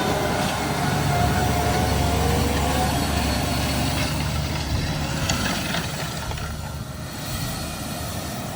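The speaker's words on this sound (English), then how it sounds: "Does look a monster, that tractor on its 900 tyres." A large tractor on 900 tyres runs steadily in a field, its deep engine drone loud and continuous throughout, easing off slightly toward the end with no talk.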